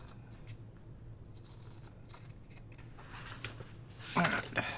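Scissors trimming fabric for a journal cover, cut by a shaky hand: soft, faint snipping and rubbing near the mic that grows into a brief louder crisp cut at the end, with no talking.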